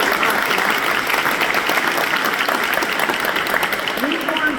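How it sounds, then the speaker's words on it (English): Sustained audience applause at a city hall event in Jacksonville, a dense wash of many hands clapping at fairly close range, steady for several seconds without a break. "Yes, you can clap."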